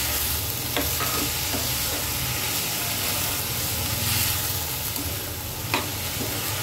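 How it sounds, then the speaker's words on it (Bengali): Chopped bottle gourd and green chillies are stirred together in a sizzling pan, giving a steady, close frying hiss with a few soft scrapes of the spoon and no talking. "এখন আমি লাউটা দিয়ে দেবো কাঁচামরিচ। এবার সবকিছু একসাথে মিক্স করে দেব।"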